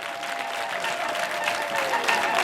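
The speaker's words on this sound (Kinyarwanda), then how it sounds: "Mumbere Imana amashyi ku bw'iyi korari by'umwihariko." Congregation applauding a choir at an ADEPR church gathering in Cyinzovu, a continuous wash of clapping at even loudness with a faint sustained tone underneath.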